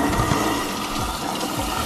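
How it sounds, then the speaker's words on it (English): Water runs steadily from a sink tap, a close, continuous rushing and splashing that holds for about two seconds with no voices. "Just turn the sink on and put your mouth under there."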